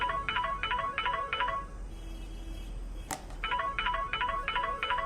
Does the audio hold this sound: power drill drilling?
no